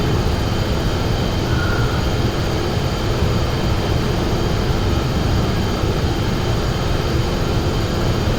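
A jet airliner at full throttle on its takeoff roll in a flight simulator, a steady loud broadband engine roar and rumble with no letup throughout.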